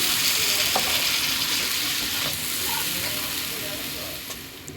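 Spice paste hitting a hot pan for a dried-fish dish, a loud, dense, continuous sizzle heard up close with faint stirring.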